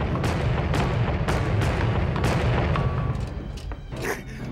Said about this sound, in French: Qu'est-ce qui t'a pris de tirer au canon?